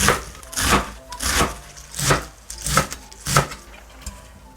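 Knife slicing garlic chives into roughly 1 cm pieces on a cutting board for Korean pancakes: five or six steady thuds, each a little spread out, close by and moderately loud, with no talking.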